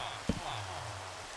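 Steady rain falling in the video game Minecraft, a soft even hiss that carries through the whole moment, with a single brief knock near the start and a voice talking over it.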